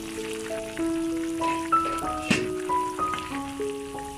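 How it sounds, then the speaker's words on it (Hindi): Mutton keema sizzles steadily in the pan as it cooks, a continuous frying hiss running under background music with a couple of sharper pops. "कीमा बड़े ज़ोर शोर से पकना शुरू हो गया।"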